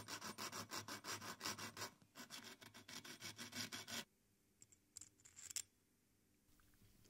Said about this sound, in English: so I carefully file out a little material